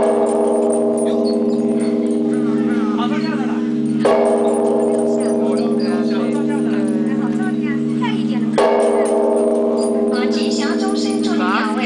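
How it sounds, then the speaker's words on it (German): A large bell struck in China rings out three times at a slow, even pace, each strike a deep, sustained tone that hums on between hits, with a voice talking over the ringing. "noch 4 Glockenschläge"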